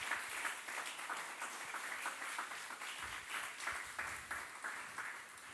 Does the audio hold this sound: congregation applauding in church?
yes